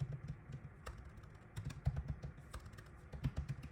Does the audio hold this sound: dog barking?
no